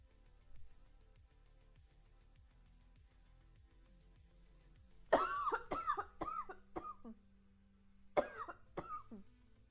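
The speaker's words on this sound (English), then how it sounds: "I still have a cough." A person coughs in an apartment, a burst of several harsh, close coughs in quick succession followed by a pause and two more coughs, over faint background scraping.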